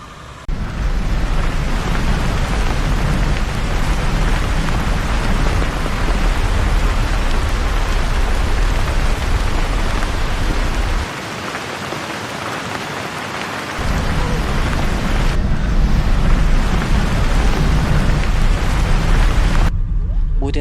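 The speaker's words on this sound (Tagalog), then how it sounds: "So kahit medyo umuulan, sinubukan pa rin naming umalis." Steady heavy rain pours outdoors on Siargao island, a loud continuous hiss that dips briefly partway through before returning just as strong, with no voices over it.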